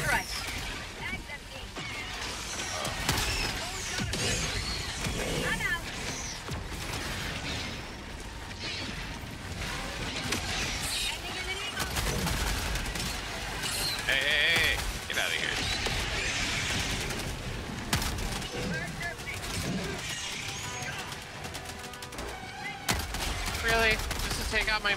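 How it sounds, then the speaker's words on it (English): Orbital strike and support weapon fire in a bug-fighting video game, with repeated bursts of gunfire, mechanical clatter and blasts running throughout at steady loudness while several players talk over the action. "Calling in orbital strike."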